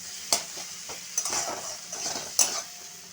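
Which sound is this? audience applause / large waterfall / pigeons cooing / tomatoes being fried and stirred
tomatoes being fried and stirred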